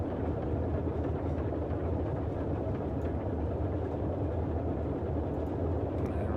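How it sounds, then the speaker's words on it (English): Second radial engine of a Boeing 247D running in a flight simulator, a steady loud low droning rumble that holds constant throughout with no talk. "Let's see if we can get engine number 2 up and running."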